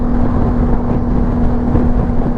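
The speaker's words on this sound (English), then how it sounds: "there's a lot of wind buffeting on my helmet" Steady, loud low-pitched roaring wind buffets a motorcycle helmet while riding a BMW G310 GS, a continuous rumble with a faint engine hum beneath and no speech.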